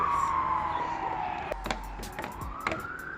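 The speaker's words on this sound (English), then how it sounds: "it's the ambulance. Fire truck." An ambulance and a fire truck pass a rural homestead, their wailing sirens sweeping up and down in pitch with short horn-like blasts, fairly close and loud over a low engine rumble.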